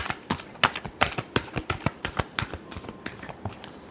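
Tarot cards are shuffled in quick, crisp bursts of riffling snaps, close and fairly quiet, in an uneven rhythm with no talking.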